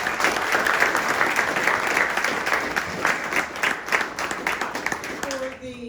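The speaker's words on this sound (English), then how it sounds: "can we give them a round of applause?" Audience applause at a mayoral candidate forum, dense sustained clapping from a crowd filling the room, fading near the end as a voice begins.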